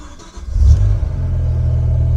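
A BMW E60 M5 engine fires up after a short starter crank, catches with a loud rev and then settles into a steady, deep idle close by.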